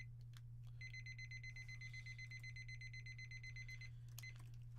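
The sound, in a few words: timer alarm going off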